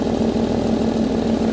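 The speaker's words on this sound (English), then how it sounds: "There is an exhaust leak right here." A 1JZ engine swapped into an E36 drift car idles steadily with an exhaust leak at the downpipe, giving a loud, close, continuous low rumble with a rapid even pulsing and no talk.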